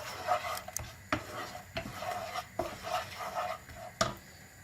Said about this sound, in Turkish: Bunları karıştırıyoruz.